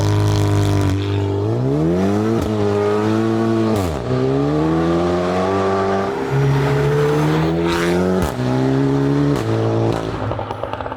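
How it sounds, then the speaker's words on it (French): A front-wheel-drive car with an automatic gearbox accelerates hard, its engine note climbing through several quick gear changes while the wheels spin, loud and close throughout with no voices. "Oh, elle patine, parce que c'est une traction, il n'y a pas 4 roues motrices"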